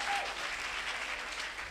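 Church congregation applauding during a Sunday service, a dense steady wash of clapping from many hands, with no gaps in it.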